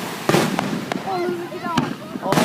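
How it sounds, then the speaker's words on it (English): Fourth of July fireworks over Hilo Bay burst in several sharp, loud bangs spaced irregularly, with whistling trails and crackle in between, while spectators react excitedly in the background. "Fireworks."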